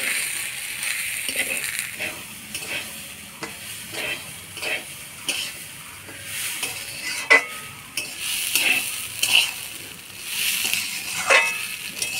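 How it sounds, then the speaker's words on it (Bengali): Rice and lentils being stirred into frying spices in a pan for egg khichuri, a repeated rhythmic scraping of a spoon against the pot over a soft sizzle, close and clear with no talking. "চাল ডাল দিয়ে ভালো করে নাড়াচাড়া করে নিব।"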